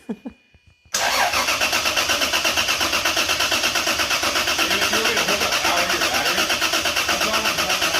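A Lexus IS300 GTE engine fires up for its first start after a few faint clicks and brief cranking, then runs at a loud, steady idle with a rapid pulsing beat close by.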